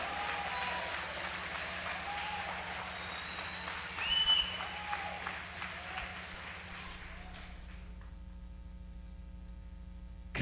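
A church congregation applauds during a sermon, a diffuse patter of clapping over a low hum of sound gear that swells briefly midway, then dies down to near quiet.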